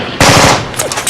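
A movie action scene opens with a sudden, loud burst of rapid machine-gun fire, a few quick shots in close succession, then a couple of fainter trailing reports.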